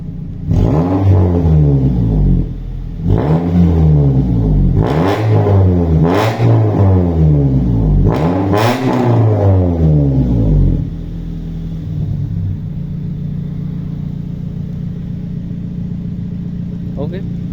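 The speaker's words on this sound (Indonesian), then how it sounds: "Spill suara mesinnya, Bro. Suara knalpotnya." Engine and exhaust of a 2001 Honda Civic VTi with manual transmission, revved repeatedly in rising and falling bursts, then settling into a steady idle. Loud and close, with a voice talking over it at times.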